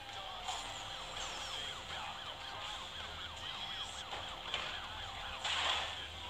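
Wailing police siren chasing through the Need for Speed No Limits mobile racing game, its rising and falling tone sweeping continuously over a low engine rumble, loud and close throughout.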